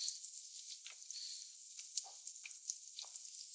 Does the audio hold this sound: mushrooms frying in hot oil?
yes